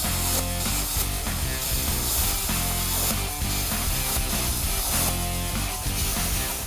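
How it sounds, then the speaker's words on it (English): A Spectrum 375 plasma cutter slices through a mesh screen for an outdoor fire pit, producing a loud, steady hiss and buzz that holds for the whole stretch without a break. "now I'm going to use a Spectrum 375 plasma cutter to cut this out"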